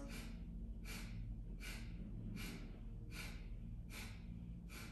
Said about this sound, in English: Now inhale halfway, and we begin sharp exhales.